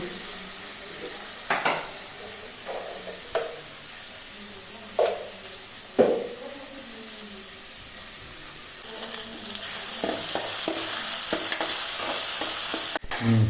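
Curry leaves and vegetables sautéed in a pan, a soft sizzle broken by several distinct spatula scrapes, then rising into a louder, steadier frying hiss toward the end.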